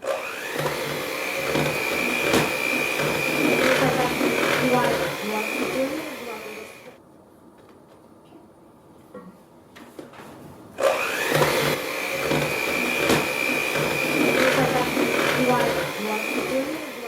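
An electric mixer beats batter with powdered sugar, milk and vanilla in a steady, loud whir that drops out for a few seconds, then starts up again at full strength.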